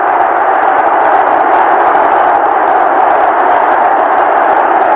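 A vast stadium crowd of Celtic supporters cheers at the 100th Scottish Cup final, a continuous, loud, washing roar with no break, carried over a radio broadcast.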